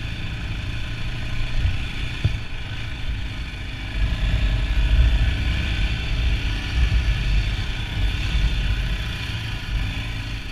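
2020 Yamaha Raptor 700 ATV engine running at a low rumble with a steady mid-pitched drone that swells slightly midway. No talk is heard.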